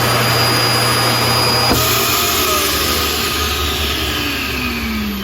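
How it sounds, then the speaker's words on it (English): Built-in Road Vac central vacuum in a 2022 Forest River No Boundaries NB19.5 RV, running as a loud, steady, close whine and rush that holds unbroken throughout, with a slight shift in tone partway through. "To open that vacuum, all you gotta do is pop that up, or it'll start sucking in"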